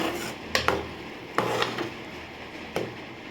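Rice flour dough being stirred in a pan for pidi kozhukattai, with a few sharp knocks and scrapes of the spoon against the pan spaced irregularly over a quiet background.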